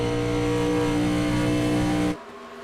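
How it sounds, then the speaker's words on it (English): Stock race cars roar flat out at the Daytona 500 in a European Sportsman round, a loud steady engine drone that cuts off abruptly near the end, leaving quieter background noise. "Listen to the sheer noise of this thing."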